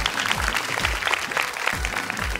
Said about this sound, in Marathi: हरकत एकदा जोरदार टाळ्या झाल्या पाहिजेत.